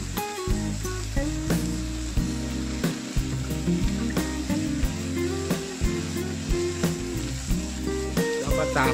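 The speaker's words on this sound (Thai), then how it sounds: "ต่อไปเราก็ผัดคลุกเคล้าทั้งหมดนะครับให้เข้ากันนะครับ" Three kinds of mushrooms and shrimp are stir-fried together in a pan, giving a steady sizzle with occasional stirring scrapes beneath prominent background music.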